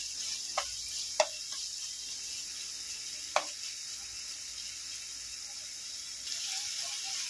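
Onion fries in a pan with a soft, continuous sizzle, punctuated by a few sharp clicks or clinks from stirring, fairly quiet and without speech.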